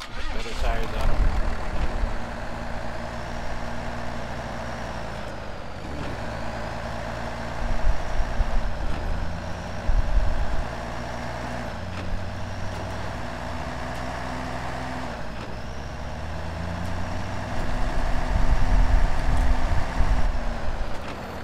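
A Ford F-250 truck engine in the video game SnowRunner hums in a steady, low idle with small swells in revving, while someone talks over it.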